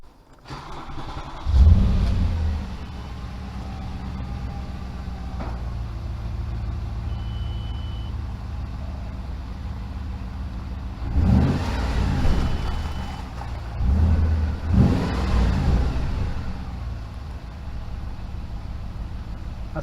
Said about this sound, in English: The European ones, they have this starter button to actually fire it up with.